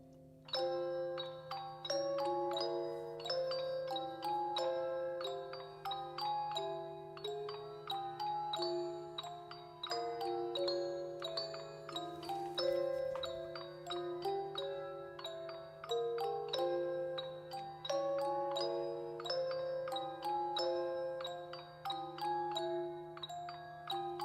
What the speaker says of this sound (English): listen to the bells in the background. They're like really far back in the hall